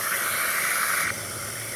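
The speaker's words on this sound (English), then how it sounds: "we had a really cool mishap in our office with an espresso machine malfunction, and there was steam leaking everywhere" Steam hisses steadily from a malfunctioning espresso machine in an office, a loud continuous broadband rush that abruptly drops to a softer, thinner hiss about a second in.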